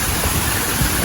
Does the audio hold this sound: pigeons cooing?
no